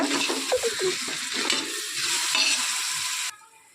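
Ginger-garlic paste and yogurt sizzle and hiss in a hot pan while being stirred for chicken biryani, a steady frying crackle with scraping stir strokes that cuts off abruptly near the end.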